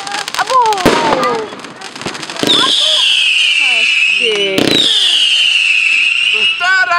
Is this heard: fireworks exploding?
yes